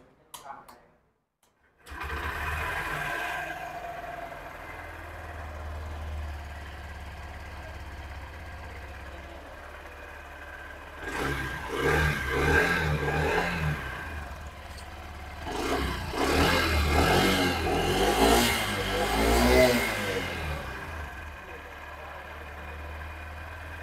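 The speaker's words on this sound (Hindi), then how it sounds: "अब एक बार इसका जो एग्जॉस्ट साउंड है उसको भी चेक कर" A Honda CD 110 BS6 motorcycle idling with a steady low exhaust thrum, swelling twice into louder revs, with someone talking over it at times.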